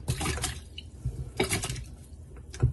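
Vinegar and water pour into a bowl for Salvadoran curtido, heard as splashing, dripping liquid in several short bursts, close and moderately loud, with no talking.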